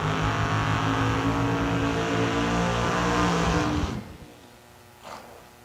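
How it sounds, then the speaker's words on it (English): Two drag racing cars do dueling burnouts at a drag strip, a loud sustained engine roar with tire noise that cuts off sharply near the end, followed by a faint brief blip. "Dueling burnouts."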